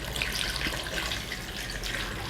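Water running from a tap into a pot for three cups of sweet and spicy vegetable stock, a steady close hiss and splash lasting the whole moment with no talk.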